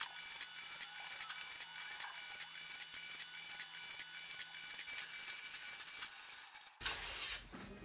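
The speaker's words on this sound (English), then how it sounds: "as you can probably hear, it's currently super loud in the printing room" A printer in a busy printing room runs continuously, churning out paper planner dashboards with a dense, rhythmic mechanical whir and shuffle, then an abrupt change near the end as the printing stops and handling noise follows.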